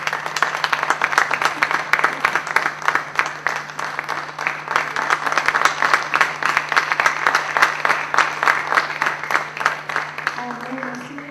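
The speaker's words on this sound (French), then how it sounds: "on peut applaudir" An audience applauds at the end of a performance in Beirut, with many hands clapping in a dense, rhythmic patter that runs steadily for about ten seconds before a voice returns at the close.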